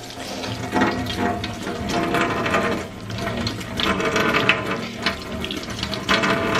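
A makeup brush being rinsed under a running tap, steady splashing water with scattered small clicks and knocks, fairly close and continuous throughout.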